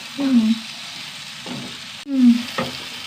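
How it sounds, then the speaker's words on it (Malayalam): Vegetable thoran frying in a pan is stirred in a few scraping strokes, short sizzling swishes spaced about a second apart, close and moderately loud with a faint low hum underneath. "ഇളക്കിയെടുക്കട്ടെ"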